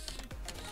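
Computer keyboard keys clacking in a short burst during a Farming Simulator 19 session, a few quick close taps with no talk.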